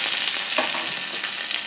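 Small onions fry in hot oil with mustard seeds and urad dal, giving a dense, continuous close sizzle with slight surges and no speech.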